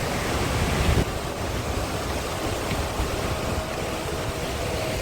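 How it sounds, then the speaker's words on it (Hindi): Waterfall or river flowing below a bamboo trek in Meghalaya, a steady broad rushing wash of water, constant and fairly full, with faint wind mixed in and no talk. "ये यहाँ पे कोई झरना या नदी निकल रही है।"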